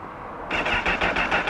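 Honda CBR1000RR Fireblade superbike starting up: a short cranking lead-in, then the engine catches and settles into a loud, close, throbbing idle with a steady pulsing rhythm.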